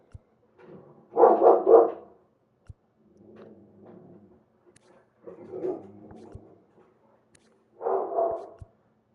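A dog barks indoors in several separate bouts, some loud close barks and some softer muffled ones, with long quiet gaps between them.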